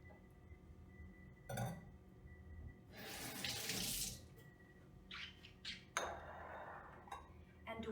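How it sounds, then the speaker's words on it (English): Tap water runs into a kitchen sink as tomatoes are washed for a Chinese tomato and egg dish, a broad steady rush that swells and pauses over several seconds, with faint clinks of dishes in the background. "And we are going to actually wash this as well."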